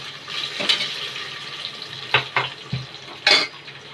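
Tomatoes are stirred into a frying masala with bay leaf in a pan for a Konkani-style black pea curry, giving a steady soft sizzle broken by several scraping stir strokes near the mic, with no talking.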